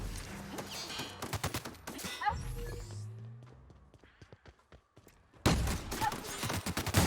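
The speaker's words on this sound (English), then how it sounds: "shotguns in this game hit really hard" Several heavy, punchy shotgun blasts in The Outer Worlds, clustered at the start and again near the end with a quieter gap of scattered sounds between them.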